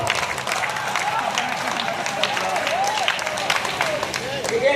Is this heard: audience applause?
yes